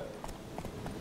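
Hooves of Roach, a horse in The Witcher 3, clop in a few spaced beats, moderately loud against a steady game background.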